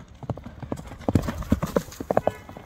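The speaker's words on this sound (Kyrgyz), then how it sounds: "Чабылып жүргөн ат экен" Horse hooves clip-clop in an uneven, lively rhythm of close, sharp knocks, with a brief pause early on and no voices over them.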